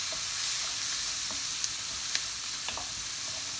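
Cumin, finely chopped onion and garlic frying in a pan for pav bhaji, a loud, dense, steady sizzle with a few faint stirring ticks, close up and with no talking.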